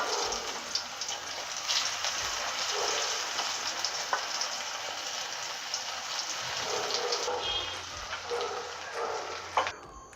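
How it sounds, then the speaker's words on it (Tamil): Paneer cubes frying in hot oil give a continuous, fairly soft sizzle and crackle, with occasional small stirring clicks. "இப்போ நான் பன்னீர் எல்லாத்தையும் போட்டு ஃப்ரை பண்ணி எடுத்துக்க போகிறேன்"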